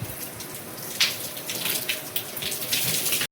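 Water runs steadily from a hose onto dusty solar panels, giving a continuous hiss with splashy bursts, fairly close and without talk.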